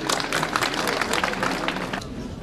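Guests at a traditional Bursa wedding ceremony applaud with loud, dense clapping and crowd noise that runs steadily, then drops to a murmur of voices near the end.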